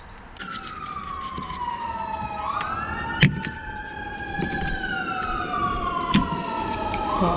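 A wailing siren sweeps up and down in pitch, fairly close and continuous, with a couple of sharp knocks cutting through.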